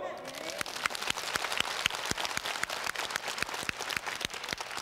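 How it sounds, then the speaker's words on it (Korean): Applause from the audience at a Korean pastor's revival lecture, a dense run of sharp claps spread evenly through the room, steady and fairly loud with no talk over it. "박수."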